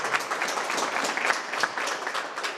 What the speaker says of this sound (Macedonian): Аплауз на сите.